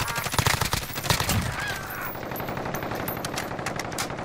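Rapid video game gunfire rattles in dense, loud bursts, continuous automatic shots filling the whole moment with no pause.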